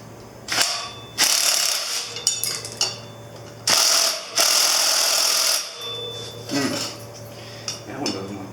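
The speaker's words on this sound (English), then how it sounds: "let's go ahead and get this rotor off first" A ratchet works the front brake rotor bolts loose on a Yamaha Virago 250 motorcycle, giving several loud bursts of rapid clicking separated by short pauses, close up with a steady hum underneath.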